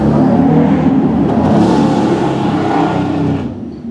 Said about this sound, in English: sounds like the biker boys are out tonight, coming back from Duke's Pub. You can hear them in the background.